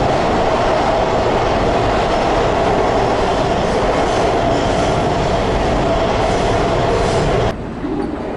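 A Los Angeles Metro Red Line subway train rides underground, a loud continuous roar of wheels and rattling cars with a rhythmic clatter. The level drops sharply near the end.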